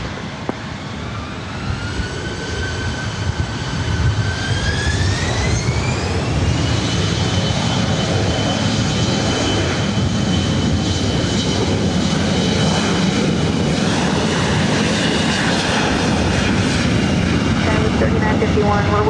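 A SkyWest jet taking off at LAX, its engines spooling up into a loud, sustained roar with a rising whine, close and steady throughout.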